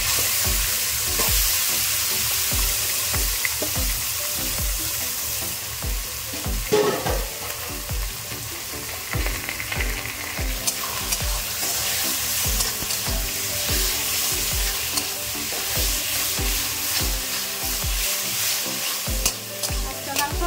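Meat sizzling with spices in a pan, a loud continuous fry crackle close by with repeated rhythmic scraping and stirring strokes throughout, no voices.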